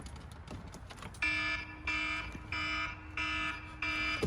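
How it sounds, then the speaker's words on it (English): An aftermarket alarm on a Polaris Slingshot in a garage beeps in four loud, even electronic pulses, each about half a second long, after a quieter stretch of background noise. "That's my ghetto alarm alert."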